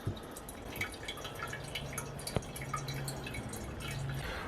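Water dripping from a clogged kitchen sink being drained, a series of small irregular drips close by over a low background hum, with one sharper splash midway.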